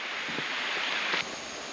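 Steady broadband rush of Jiuliao creek flowing beside a mountain trail in Dongshan, Yilan, continuous and fairly close, with a few faint soft knocks and no voices.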